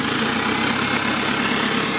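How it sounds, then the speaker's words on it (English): Daimler-chassis GAL WS130 streetlight bus with a small exhaust leak, its engine running with a steady, rapid chuffing putter and a faint high whine, close and continuous. "Finally, a streetlight Daimler with an exhaust leak."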